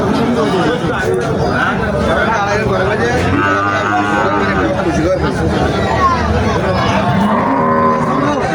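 Shahiwal cows moo loudly and repeatedly at the Mainamati cattle haat, with a busy crowd chattering all around them.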